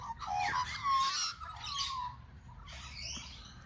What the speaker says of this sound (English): The birds have discovered that I'm back in the field.